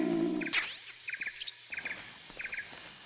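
Birds chirp in quick repeated trills in a Metal Gear Solid 3 jungle, with short bursts spaced across the moment over a quiet insect-like background.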